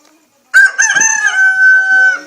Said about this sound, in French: Et voilà les coqs qui chantent pour nous